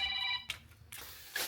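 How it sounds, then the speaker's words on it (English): Mobile phone ringtone chimes in short electronic tones amid quiet background noise on a Thai street, brief and moderately loud. "now my phone is ringing as well"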